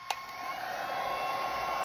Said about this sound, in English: You can also use a hair dryer. That works completely fine as well. I just happen to have a heat gun.